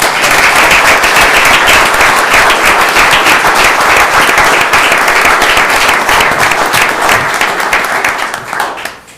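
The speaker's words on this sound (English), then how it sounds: "Can we please give these officers a round of applause?" Loud, sustained applause from a town council meeting audience honoring police officers, dense clapping filling about nine seconds before tapering off at the end.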